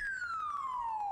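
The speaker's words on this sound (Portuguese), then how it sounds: "A sirene tocou, a gente contou." A single siren tone glides steadily downward with strong harmonics, loud and close, sounding alone without any talk over it.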